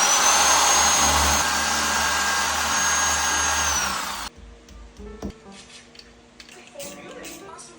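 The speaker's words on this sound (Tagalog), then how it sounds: "Minarkahan ko na nga muna kung saan ilalagay yung screw tapos sinimulan ko na nga magbarena" A power drill whirs loudly and steadily for about four seconds while drilling into a wall, then cuts off, leaving quieter clicks and handling noises.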